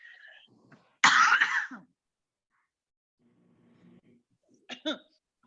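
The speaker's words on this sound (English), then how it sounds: "oh no, I'm coughing" One sharp, harsh cough stands out from near silence, followed a few seconds later by a quieter pair of throat-clearing coughs.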